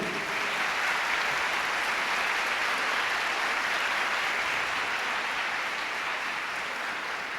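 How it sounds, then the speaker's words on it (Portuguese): A church congregation at a Catholic gathering breaks into sustained applause, a steady, dense wash of clapping that holds at an even level throughout with no talk over it. "Pode aplaudir."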